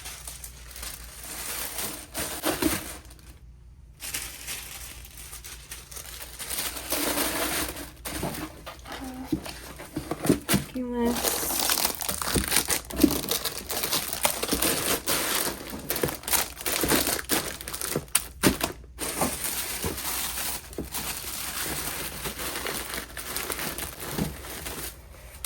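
Tissue paper crinkles and crumples in bursts while an order is packed for a small shop, with dense rustling over most of the stretch and a few quieter pauses between handling.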